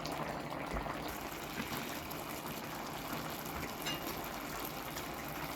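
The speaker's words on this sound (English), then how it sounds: "So now, we let the water evaporate, boil and evaporate." Water boils down in a pot of Tajik plov rice, a low continuous bubbling and simmering hiss at a soft, steady level with no talking.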